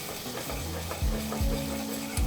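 Onions go into a pan with browned pancetta for a Welsh beef ox cheek casserole, a steady close sizzle punctuated by a few low scraping strokes of the spoon.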